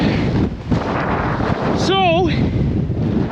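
Strong wind gusting across a snow-covered farm field beside a buried fence line, a steady broadband rush close to the microphone, with a short spoken word near the middle.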